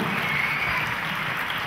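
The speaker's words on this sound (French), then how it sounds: "Je voudrais qu'on applaudisse très fort Ryan Wilson en le remerciant d'être parmi nous encore cette année." An audience at a live stage event applauding a performer, a dense, even wash of clapping that holds steady for under two seconds.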